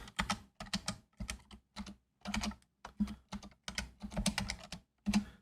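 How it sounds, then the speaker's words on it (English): Rapid typing on a computer keyboard during a programming session, close and clear, coming in quick bursts of clattering keystrokes separated by short pauses. "The hardest part of programming is typing on a keyboard."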